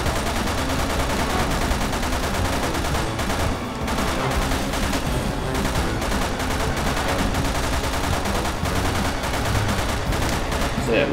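Rapid, sustained gunfire from Sherry in Resident Evil 6 with unlimited ammunition, a dense constant barrage of shots layered over game music and effects, loud throughout with no pauses.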